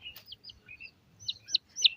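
Small chicks peep in a quiet rural yard, with high, sharp chirps arriving in short irregular bursts and growing louder toward the end, no talk.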